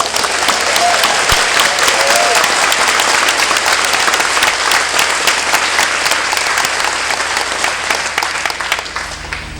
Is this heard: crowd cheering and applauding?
yes